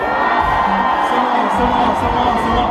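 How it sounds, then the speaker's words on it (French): A concert crowd at a Christian worship event shouts and cheers with joy, a dense, loud and continuous roar of many voices with whoops throughout. "Est-ce qu'on peut pousser des cris de joie?"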